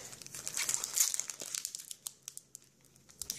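A foil Pokémon XY Primal Clash booster pack wrapper crinkles and tears open up close, a brief rip followed by a scatter of small crackling crinkles.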